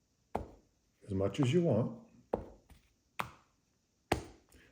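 A deck of playing cards is cut on a table, giving a few sharp, short taps and slaps spaced apart, with someone speaking briefly between them.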